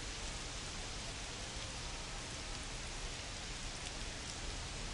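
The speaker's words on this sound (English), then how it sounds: "We are officially in a rain delay as they'll put the tarp on the infield and hope this one passes quickly." Rain falling during a baseball rain delay in the MLB The Show 25 video game, a steady dense hiss of rainfall with no other sounds, even and continuous throughout.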